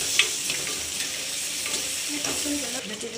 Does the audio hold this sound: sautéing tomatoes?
yes